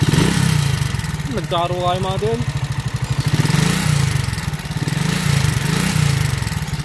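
A motorcycle engine with worn timing gear, cam follower and push rods chugs loudly and unevenly at idle, a rough rhythmic rattle throughout, with a brief voice over it early on.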